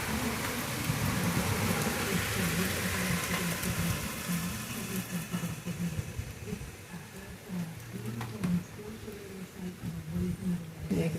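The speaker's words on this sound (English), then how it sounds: "we're getting a little downpour right now." Steady rain pours down during a thunderstorm, a dense continuous hiss that stays loud and even throughout, with no distinct thunder clap standing out.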